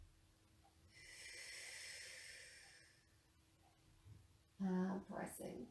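A Pilates exhale during an intermediate floor exercise: a long, soft, breathy hiss of air pushed out through the mouth, close to the mic, followed by a short voiced murmur.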